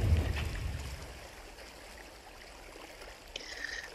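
Underwater bubbling and watery movement come from the video game INSIDE as the character drowns. A louder churn at first settles into a faint, murky wash, then a brief higher burst of bubbles near the end.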